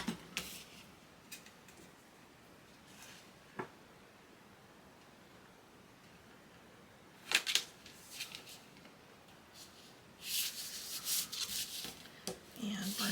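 Paper is burnished down onto a Classic Pooh birthday scrapbook folio with scattered short rubs and taps, then a longer stretch of close, firm rubbing strokes toward the end.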